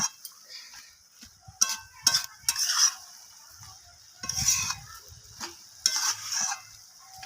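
Cabbage and fish head stirred in a pan with sugar mixed in, giving bursts of scraping and clinking as the spoon moves through the mix over a quiet sizzle.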